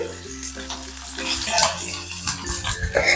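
Chopped onion tossed into hot oil already holding cumin seeds and green chilli slices, giving a steady close sizzle with stirring and a few pan clatters.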